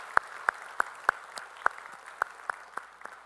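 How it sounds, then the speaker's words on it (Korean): A church congregation claps after a choir performance at a Sunday service, producing sparse, evenly spaced claps that ring out in a reverberant hall with a low background hum. "우리 찬양 박수 주님께 영광의 박수 올리겠습니다"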